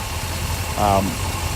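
A 1965 Chevrolet Corvette engine idles with a steady, low, even rumble, close by, interrupted briefly by a short voiced sound partway through.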